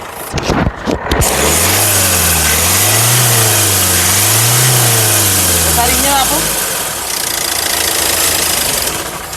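The engine of a 2017 Hyundai Creta SX revs up and down in two rising and falling swells after a few bumps at the start, then settles back toward idle, close and loud.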